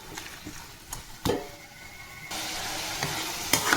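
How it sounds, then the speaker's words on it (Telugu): Chicken pieces and liver frying in a pan, with a soft sizzle that grows louder partway through and intermittent stirring clatters, close by, no talking. "ఇప్పుడు ఇది బాగా వేగనివ్వాలన్నమాట"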